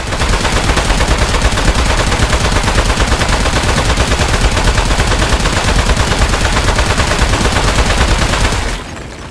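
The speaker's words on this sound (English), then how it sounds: "Don't stop. Keep shooting him." Rapid automatic gunfire from the video game Aperture Desk Job: a loud, continuous stream of shots that runs unbroken for most of the stretch, then cuts off abruptly near the end.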